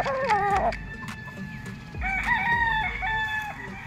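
Five-month-old gamefowl stag crowing loudly and close, two full cock-a-doodle-doo calls in a row on a game farm, with faint clucking from other fowl in the background.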